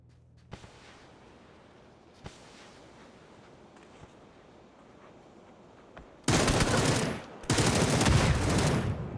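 PUBG pro scrims gunfire: a few faint distant pops early on, then two loud, close bursts of rapid shots near the end.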